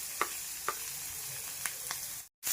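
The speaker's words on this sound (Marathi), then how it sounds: "भाज्या थोड्याशा आपण परतून घेऊया।" Vegetables sizzle in hot oil while being stir-fried for Schezwan veg fried rice, a steady close hiss with a few sharp spatter pops, ending in a brief silence.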